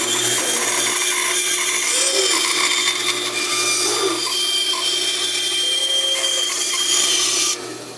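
A power saw steadily cuts through a wooden fish pattern for spearfishing, a continuous loud buzzing whine with slight pitch shifts as the blade moves through the wood, then a drop in level near the end.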